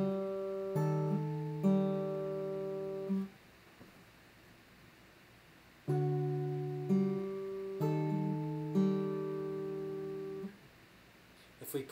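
Acoustic guitar picking out chord shapes for a song, clear plucked notes ringing in two phrases with a pause between, played alone without talk.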